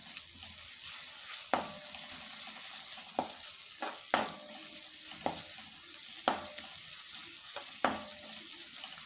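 Onion with ginger garlic paste sautés in a pan for chickpea masala sundal: a soft continuous sizzle broken by repeated sharp spatula scrapes and taps at an uneven, roughly one-second rhythm, close up and without talk.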